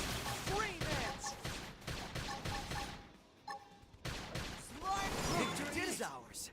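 Rapid bursts of gunfire in Xenoblade Chronicles X crackle amid chaotic battle effects and music, pausing briefly midway before resuming under voices.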